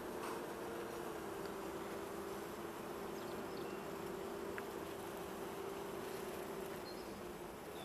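Honey bees buzz around an open beehive during hive inspection, a dense continuous hum with a steady drone, moderately close and unbroken throughout with no talking.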